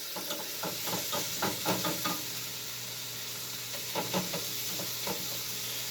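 Beef sizzles in a pan on medium heat, a constant bright hiss broken by clustered spatters and crackles as it is stirred, close and loud with no talking.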